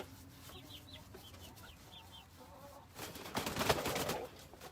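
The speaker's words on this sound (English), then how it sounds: "So you hear my rooster" Close by, a pet rooster kept shut in its pen clucks in a run of quick, faint chirps outdoors, then louder rustling and scuffling noise rises near the end.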